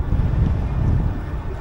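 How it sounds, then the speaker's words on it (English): Heavy wind buffeting a microphone during an outdoor ride, a dense low rumble that stays loud and continuous throughout with no speech. "It's so windy."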